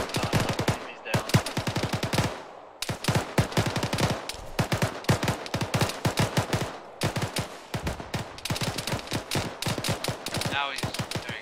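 Gunfire in ArmA 3: dense, loud bursts of automatic rifle and machine-gun fire crackle almost continuously, with short pauses between volleys and a voice faintly under the shots.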